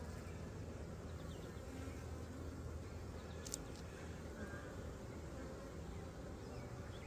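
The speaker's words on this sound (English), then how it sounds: "There's a lot of bees." A dense, steady hum of many honey bees buzzing close by at a hive, continuous and even throughout with no pauses.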